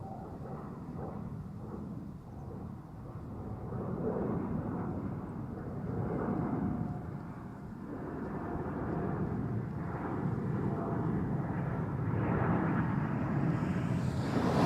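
Jet airplane taking off at Amsterdam Schiphol Airport, a broad distant roar that swells and lingers steadily, heard outdoors with light wind and no talking.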